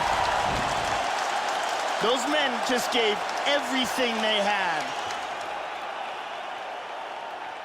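Crowd applause and cheering after a fight in a UFC video game, a broad arena roar under loud commentator talk, with the crowd noise fading toward the end.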